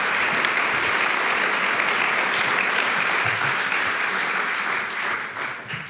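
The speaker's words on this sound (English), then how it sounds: "if the hall would please give you both a warm round of applause" A large hall audience bursts into loud, sustained applause at a climate and health event, the dense clapping holding steady before thinning slightly at the very end.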